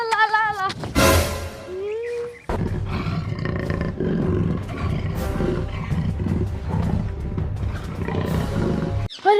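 A lion roars loud and close in a comedy sketch, a long rumbling roar rising over a brief melodic voice at the start and carrying on through a dense, continuous background.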